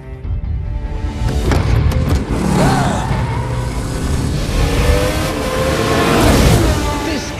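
A Ferrari race car drives on a racetrack with a loud, steady engine roar, its pitch rising and falling as it revs, close and continuous throughout.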